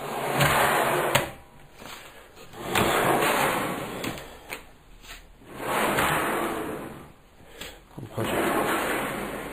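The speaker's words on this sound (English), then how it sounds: "the drawers fall right out to where you need them" Wooden under-bed storage drawers slide open and shut in a repeated cycle of broad rumbling glides with brief knocks in between. A steady high whine runs under them, and no one speaks.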